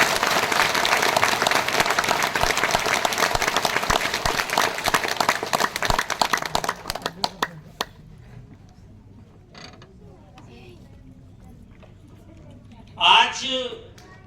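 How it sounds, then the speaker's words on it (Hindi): Loud audience applause at a seminar in Ahmedabad, a dense burst of clapping that thins into scattered claps and fades to near quiet, with a brief voice or shuffle near the end. "एक बार ताली, जोरदार ताली से सम्मान करेंगे।"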